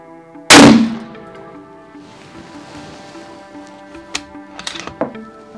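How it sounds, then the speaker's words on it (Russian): A single sharp, loud rifle shot fired during a thermal riflescope test, ringing out and decaying quickly, followed by faint outdoor ambience and a few small clicks and knocks. "производим второй выстрел"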